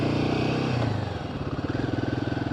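A Royal Enfield Himalayan motorcycle engine close by, its steady thumping note dipping as the rider shifts into second gear, then settling into a regular rhythmic pulse.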